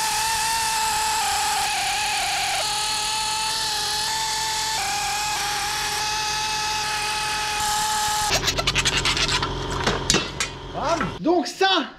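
A power tool unscrewing bolts on a farm manure scraper: a loud, steady whining drive runs for about eight seconds, then gives way to bursts of rattling and several short revving spurts as the bolts come free.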